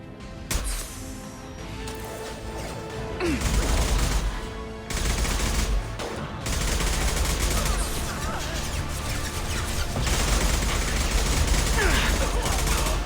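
Sniper and heavy gunfire in the Mass Effect 2 video game, a steady barrage of shots with crashes and booms over a dense combat din; a voice speaks briefly amid the fighting.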